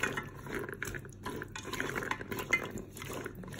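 Meat being stirred in a Cookeo pot while cooking a Moroccan harira soup gives a steady close run of wet scraping and clinking, with no one speaking.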